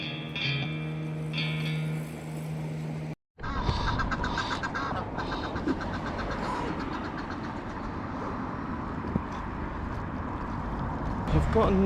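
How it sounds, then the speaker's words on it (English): Geese, pigeons and swans gather by the water, honking and calling in scattered bursts over a steady outdoor rumble of distant traffic, with a voice talking now and then. "I've got the geese, pigeons and swans. It's the bird hangout spot."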